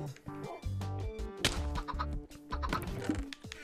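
Chickens cluck in the Minecraft video game near a chicken farm, in short repeated bursts over busy game music and other effects, with no talk.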